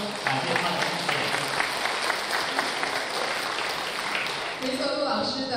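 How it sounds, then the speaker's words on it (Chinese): Audience applause fills a concert stage in Chicago after a bass singer's performance, a steady wash of clapping from the crowd lasting several seconds, fairly loud and sustained, with a slight lull near the end. "让我们再次掌声感谢他的"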